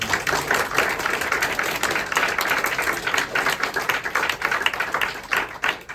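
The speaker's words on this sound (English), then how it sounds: "A round of applause" An audience claps at the close of a panel talk on women artists, a loud, dense round of applause sustained for several seconds with sharp individual claps standing out.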